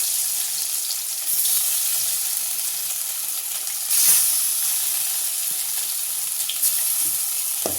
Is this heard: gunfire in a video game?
no